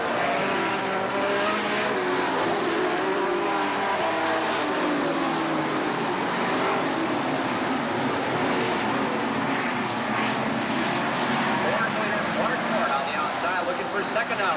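Sportsman feature race cars roaring around the Sheboygan County Fair track in 1991, a continuous loud engine din with revving and passing cars, under a race announcer's commentary.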